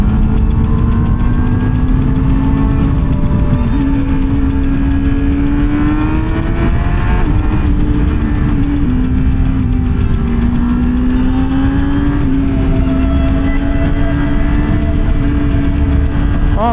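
A Honda CBR1000RR-R SP sport motorcycle accelerates on a winding Swiss road, its engine droning loud and close with a rising and falling pitch as it revs through the bends.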